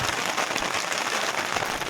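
Heavy rain pours down steadily in a dense, even hiss that stays loud and close throughout, with no voices over it.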